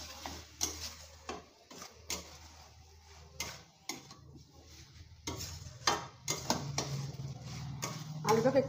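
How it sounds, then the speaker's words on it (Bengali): Potatoes are stirred and fried with spices in a pan, giving close, irregular scraping and clinking of a utensil against the cookware, with a soft sizzle building toward the end. "আলুটাকে একটু মশলার সাথে ভালো করে একটু কষিয়ে নেবো"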